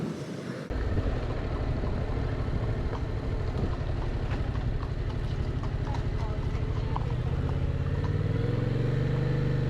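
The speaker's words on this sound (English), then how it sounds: "I can't deny the sound of this bike though. It does sound good. It's like a growling." A Yamaha MT-07 motorcycle engine growls steadily close by, its deep rumble swelling slightly toward the end, with faint clopping of horses mixed into the background.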